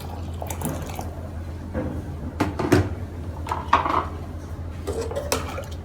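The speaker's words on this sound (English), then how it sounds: "going to add in little bit more water." Water added to a pot of moringa leaf porridge with coconut milk, soft liquid pouring mixed with clinks of a spoon and pot, faint kitchen handling sounds close by.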